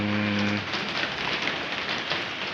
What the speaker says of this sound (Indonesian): ini hujan terus menerus